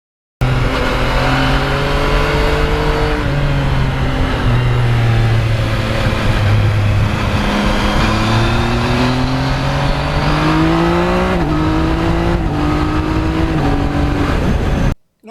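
2020 Yamaha MT-09 motorcycle with about 14,000 miles, engine revving loudly while riding on back roads and highway, its pitch climbing and dropping through repeated gear changes, close and continuous with wind noise underneath.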